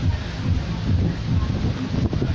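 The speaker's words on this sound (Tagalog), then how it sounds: "Medyo malakas ho ang hangin ngayon" Steady low rumble of strong wind buffeting the microphone during light rain in the town of Torrijos, continuous and fairly loud throughout.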